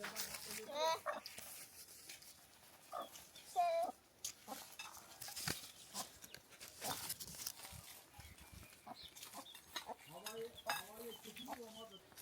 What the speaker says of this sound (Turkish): 鸡在那边，鹅在那边，很多。